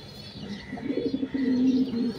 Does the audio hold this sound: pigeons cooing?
yes